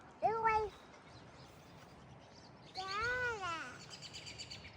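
Two short bright bird calls ring out, one near the start and a longer warbling one midway, over a quiet outdoor background.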